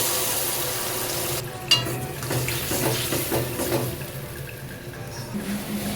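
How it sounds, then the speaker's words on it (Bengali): Potatoes frying with spices in a pan give a steady sizzle, then a clink and a splash as a little water from rinsing the spice bowl is poured in, with stirring scrapes and bubbling that follow. "মশলার সাথে আলুটা কিছুক্ষণ নাড়াচাড়া করার পর মশলার বাটি ধোয়া জল দিয়ে দিচ্ছি সামান্য।"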